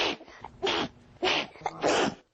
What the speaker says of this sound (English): a volcano of sneezing numbering, get this, thousands of eruptions a day